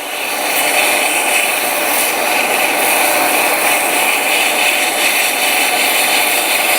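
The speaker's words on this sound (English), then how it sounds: "Now I'm not pressing hard, just enough that we bite into the sandpaper." Steady, loud broadband hiss of sandpaper pressed lightly against a 7mm pen blank spinning on a lathe, continuous and even with no pauses or voices.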